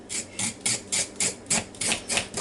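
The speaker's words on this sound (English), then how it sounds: "you can scrape them like this" Carrots being scraped clean with a knife, a rapid series of about nine rhythmic raspy strokes, close and fairly quiet, with no talking.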